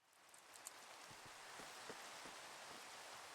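Steady rain falling in Minecraft, a continuous soft hiss of drops throughout with faint low patters, moderately quiet and with no voices.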